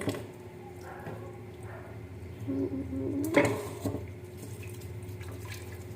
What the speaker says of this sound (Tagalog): Lagyan na lang natin guys ng tubig.